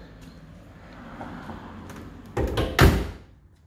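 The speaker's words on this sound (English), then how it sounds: "show you how solid this car is by opening and closing the doors" A 1966 Pontiac Star Chief Executive door is pulled open with a click, then shut with a solid, heavy thud, close by in a quiet setting.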